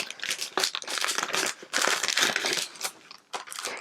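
A large mail envelope decorated with glittery washi tape is torn and crinkled open up close, in loud bursts of ripping and crumpling paper with short pauses between.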